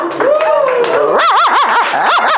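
A person mimics a puppy, giving a drawn-out whine followed by a quick series of high, yipping barks, close and loud.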